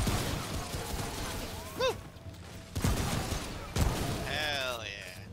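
Gunfire from a gun in the video game Remnant: From the Ashes, a few sharp cracks and bursts scattered among game effects, with a voice talking over parts of it.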